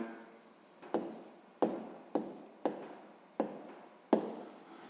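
A pen writes on paper in short strokes while a maths answer about hryvnias is noted down. About seven crisp taps and scratches fall at a steady pace, close and quiet, with no talk.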